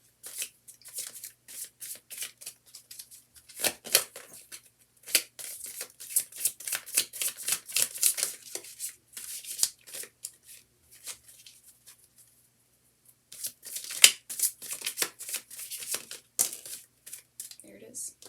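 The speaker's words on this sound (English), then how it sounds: "It's really hard to shuffle those all. That's why I split them up first." A deck of tarot cards, split into smaller piles, is shuffled up close in quick crisp riffling bursts that break off for about a second before resuming, with some talking mixed in.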